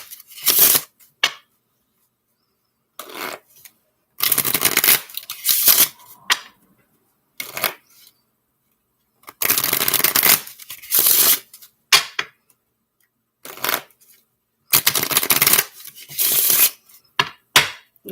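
Tarot cards are shuffled in repeated brisk bursts of riffling and slapping, with short pauses between each round, close and clear with no talking.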